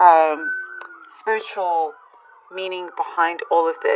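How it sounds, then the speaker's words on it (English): A siren wails steadily in the background while a person speaks over it, the tone holding faint and constant beneath the voice. "sorry about the sirens"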